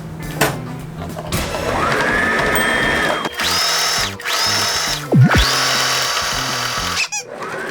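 A sewing machine whirs in steady bursts as it stitches, rising, holding and stopping, with brief rattles and clatter between runs, close up.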